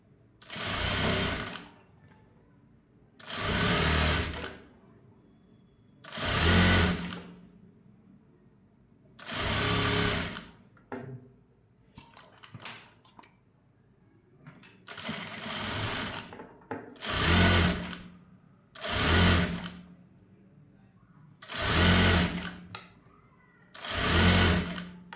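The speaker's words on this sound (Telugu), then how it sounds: "చూసారు కదండి, ఇలా ఎండింగ్ వరకు ఒకే స్టిచ్ ఇలా వేసుకుంటూ వెళ్ళిపోవాలి." A sewing machine stitching a blouse runs in repeated bursts of a few seconds each, separated by brief pauses with faint handling noises, loud and close throughout.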